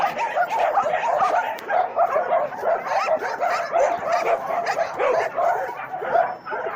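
Many dogs bark and yip continuously at a dog shelter in Montenegro, a noisy chorus of near and farther voices overlapping with some whimpering.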